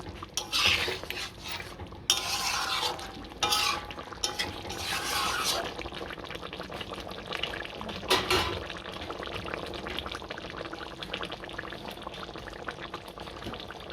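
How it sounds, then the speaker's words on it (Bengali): A pot of milk chicken curry with ghee and garam masala is stirred with a utensil, giving bursts of scraping and clattering against the pot over a low simmer, busiest early on, then easing into softer, steady stirring. "এবার সবগুলো একসাথে ভালো করে নেড়ে নেব।"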